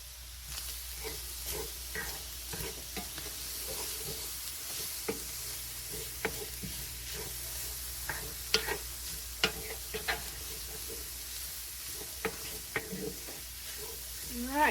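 Garlic, onions, bacon and beef are stirred in a hot pan, with a steady soft sizzle under repeated scraping and clacking strokes from the utensil.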